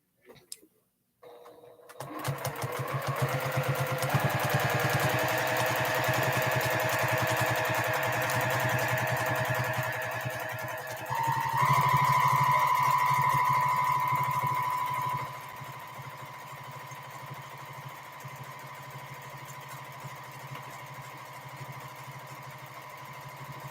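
A Juki domestic sewing machine quilting runs steadily and loudly for about twenty seconds, its fast needle whir holding an even drone, with a brief higher-pitched surge partway through before settling into a quieter hum.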